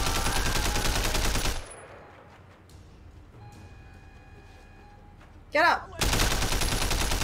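Loud sustained bursts of gunfire from the Sleeping Dogs video game open the scene, drop away into a quiet stretch where a voice speaks briefly, then crash back in heavily near the end.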